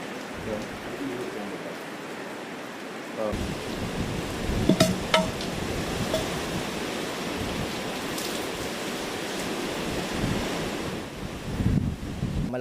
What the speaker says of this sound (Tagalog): Malakas pa rin nga itong hangin dito sa kinaroroonan namin at yung pag-uulan ay ayan, napakalakas pa rin